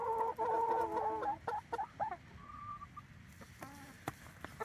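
Chickens cluck and warble nearby in a steady run of calls that thins into scattered single clucks, with no talking over them.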